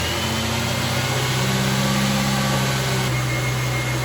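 A Ford Mustang engine runs at a steady, continuous idle close by with a constant low hum and no voices.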